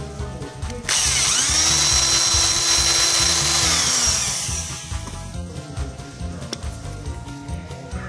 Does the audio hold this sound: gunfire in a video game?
no